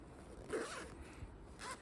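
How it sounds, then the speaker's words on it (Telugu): A vertical zipper on a Bandhini cotton feeding nightie is pulled in a short, quiet rasp lasting about a second, close by and alone. "చూడండి, ఇట్లా వర్టికల్ జిప్స్ అయితే ఉంటాయి 2 సైడ్స్"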